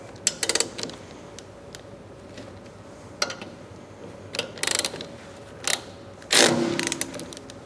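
Boat propeller worked back and forth on its shaft, heard as scattered metallic clunks and creaking mechanical clicks in irregular bursts, close by over a low background hum with no speech.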